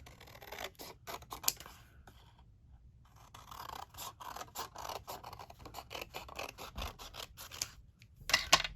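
Scissors snipping through paper for a junk journal, a close run of quick crisp cuts with brief pauses and light rustling of the sheet, no voice.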